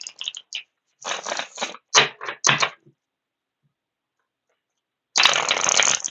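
Tarot cards from a Morgan Greer deck being pulled and handled, several short crisp papery swipes and flicks in quick bursts, a silent pause, then a longer rustling shuffle close by with no talking.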